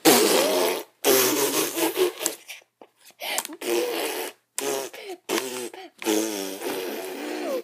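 Drawn-out comic fart noises for Mario farting on a Toad character in a Mario game parody, loud and close, several long sputtering blasts broken by short pauses; the farts sound as if a voice is imitating them.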